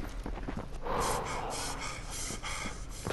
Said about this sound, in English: What's my character breathing like that for?